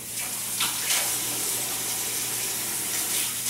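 Running tap water splashes into a kitchen sink as hands are washed while cooking meatballs, a soft, continuous hiss with faint splashes, fairly quiet and alone.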